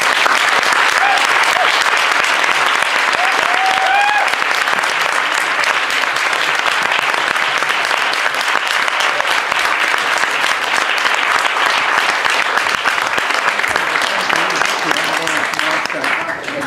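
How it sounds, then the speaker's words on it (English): A large audience applauds after a science talk: loud, sustained, dense clapping that fills the whole stretch at an even level, with faint voices and a few whoops mixed in. "Now you can clap."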